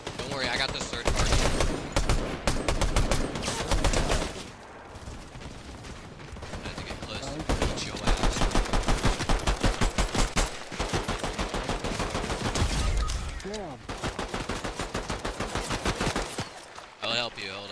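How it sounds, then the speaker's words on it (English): Dense automatic gunfire from the video game Fortnite rattles almost nonstop, loud and close, in long bursts with short breaks, while players talk over it. "What the hell is shooting at us?"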